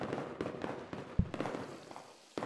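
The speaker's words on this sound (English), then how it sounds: "Fireworks for Bunny Big Guns." Video game fireworks pop and burst in a scattered string of sharp cracks, with a louder bang near the middle and another at the end, against a quiet background.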